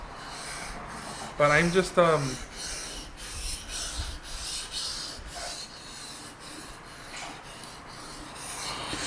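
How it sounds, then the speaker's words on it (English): Knife blade being sharpened on water stones, soft repeated rasping strokes in a steady back-and-forth rhythm, fairly quiet and close, with a brief spoken phrase early on. "so this is how I sharpen my knife"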